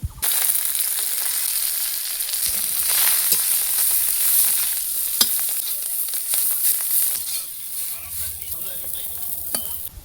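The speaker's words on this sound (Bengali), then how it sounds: "হালকা ভাজা হলে ধনেপাতা স্বাদ মতো নুন দিয়ে ভাজবো যতক্ষণ না জল শুকোবে।" Steady, close frying sizzle of coriander leaves with salt in a pan, with occasional clicks and scrapes of stirring, continuing throughout.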